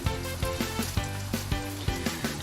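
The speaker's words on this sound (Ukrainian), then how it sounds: "на добре розогріті пательні ми будемо смажити деруни наші" Steady sizzling of potato pancakes frying in a hot pan, with a few soft knocks and scrapes from a utensil recurring at a regular pace.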